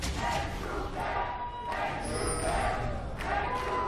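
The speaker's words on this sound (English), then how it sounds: "We know where the crowd's allegiances lie, Crepo." A large arena crowd roars and cheers at a League of Legends esports match, a dense, sustained swell of voices with rising bursts and thuds throughout.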